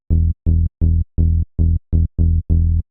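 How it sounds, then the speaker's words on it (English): A clean synth bass through a Pigments Matrix 12 filter plays eight short, evenly spaced notes in a steady rhythm, deep and round, close and alone. "Really nice clean bass sound"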